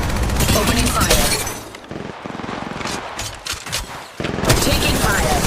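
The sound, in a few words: gunfire in the video game Apex Legends Mobile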